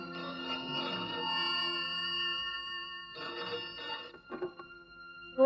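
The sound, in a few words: telephone ringing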